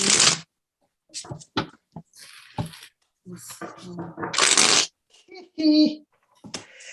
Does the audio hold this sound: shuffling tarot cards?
yes